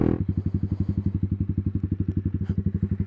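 A 2016 Honda CBR300 FlatTracker motorcycle pulling away, its engine making a steady, close thumping chug at an even rapid beat that keeps going for several seconds.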